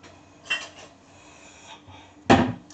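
A cup is handled while a quick five-minute mug cake is prepared, giving two short, sharp clinks, one soft and a louder one near the end. Quiet room tone fills the space between them.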